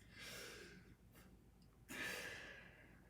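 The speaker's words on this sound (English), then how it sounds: "Now I'm gonna have you take a deep breath in." A patient takes slow deep breaths during a medical chest examination: a long airy inhale, a brief pause, then a second strong breath, close and quiet with no talk.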